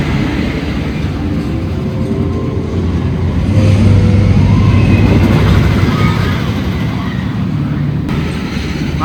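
Wicker Man wooden roller coaster at Alton Towers, ridden from the back row: a steady, loud rumble of the train on the track that swells midway, with roar and rattle throughout and no clear talk.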